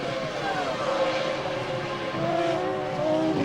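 Formula 1 cars from the 2001 season, a Prost and a Benetton battling over sixth place, produce a steady high-pitched engine whine with shifting pitch, heard continuously throughout under a broadcast-style mix.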